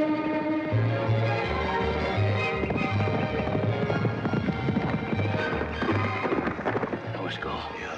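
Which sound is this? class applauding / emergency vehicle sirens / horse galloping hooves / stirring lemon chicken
horse galloping hooves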